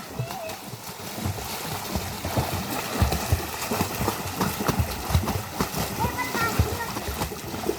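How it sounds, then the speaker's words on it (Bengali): Water splashes continuously as a child learns to swim, with choppy irregular splatters close by and voices talking over the sloshing throughout. "এভাবে সাঁতার কাটতে থাকো, আস্তে আস্তে দেখো সাঁতার শিখে দেবা"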